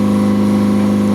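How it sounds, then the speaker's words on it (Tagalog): A skip boat's engine with too much clearance runs steadily, a loud, close, constant mechanical drone with a low hum and rattling undertone and no talk over it. "kumakalampag sa taas pag magbuilo makina."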